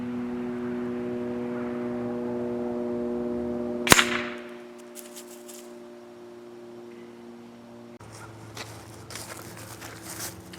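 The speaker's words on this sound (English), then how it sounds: "that was the sound of a bird being hit" A .22 caliber hollow point air rifle pellet striking a bird gives a single sharp, loud crack over a steady low mechanical hum. Quieter rustling follows afterward.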